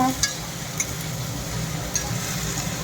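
Chowmein frying in a pan in a home kitchen makes a steady low sizzle and soft stirring, with a few brief utensil clicks over about three seconds.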